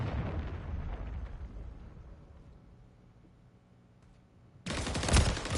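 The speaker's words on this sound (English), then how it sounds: "Hostiles launched a cruise missile." Cruise missile strike in Call of Duty MW3: a loud roaring explosion that fades into a low rumble, followed by a sudden burst of heavy blasting and gunfire.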